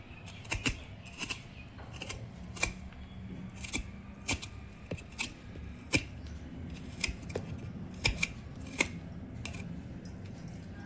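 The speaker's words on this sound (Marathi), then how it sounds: "मी अद्रक असं सोलून घेते" Quiet, rhythmic scraping clicks repeat every half second or so as a knife peels ginger, close and soft.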